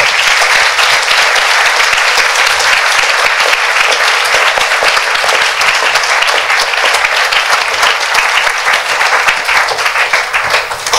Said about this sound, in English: let's applaud David for bringing some windmills together